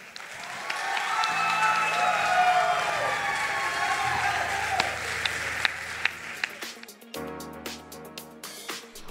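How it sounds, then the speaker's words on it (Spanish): Applause from a concert audience fills the hall, dense and sustained, then breaks into sparser individual claps as music begins underneath toward the end. "Un fuerte aplauso para Carlos Daniel."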